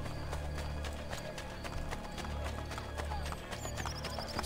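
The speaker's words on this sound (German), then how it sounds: "Woher das Pferd kommt, weiß ich nicht" Horse in Assassin's Creed Brotherhood, with steady clip-clop of hooves and a brief whinny over a continuous low game ambience, fairly close and moderately loud, no talking.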